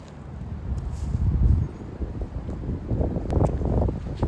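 Wind gusts across an outdoor disc golf course, buffeting the microphone in uneven low surges with faint rustling between them.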